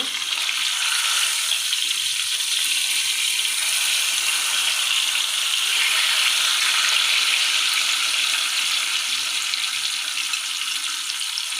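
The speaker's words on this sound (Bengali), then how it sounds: "গরম করে তেলে দিয়ে দিচ্ছি। মাছটাকে এখন উল্টায় নেব।" A tilapia fish fries in hot oil in a small frying pan, producing a loud, continuous hiss and crackle that holds steady with no voices.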